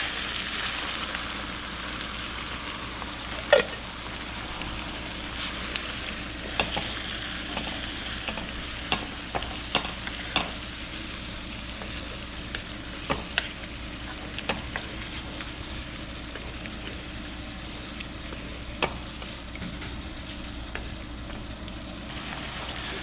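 Steady soft sizzling and bubbling from a pan of simmering food with fire-roasted diced tomatoes, with occasional sharp clicks and taps of a utensil against the cookware.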